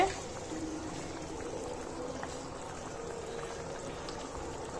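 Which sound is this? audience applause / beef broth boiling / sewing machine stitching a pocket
beef broth boiling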